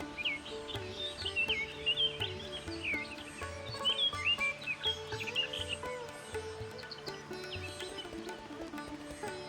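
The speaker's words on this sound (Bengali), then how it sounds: "এখানে পেয়ে যাবেন অফুরন্ত বাতাস পাখির ডাক ঝিঝি পোকার ডাক" Birds chirp and sing repeatedly over a faint background of insect trill at a rural farm-stay near Kolkata, set among woodland and village greenery, with no voices present.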